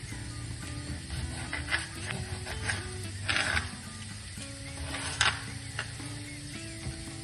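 Eggplant pieces cook in a pan with a quiet, steady sizzle, broken by occasional scraping and stirring clatters. No one speaks.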